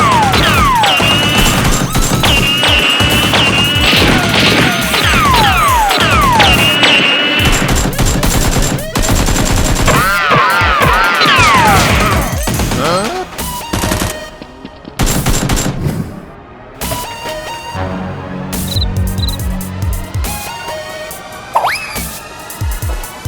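Nerf guns fire in rapid, dense volleys during a staged fight, loud clattering bursts with crashes mixed in, easing into sparser shots toward the end.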